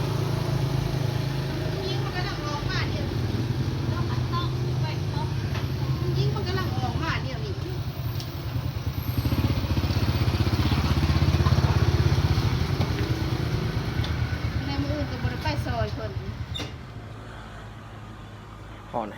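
A motorbike rides out of a busy market, its engine droning steadily close by for the whole stretch, with street noise and people talking around it.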